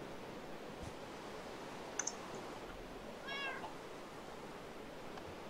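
A cat meows once, faint and at moderate distance, over a steady background hiss with a few soft clicks and rustles.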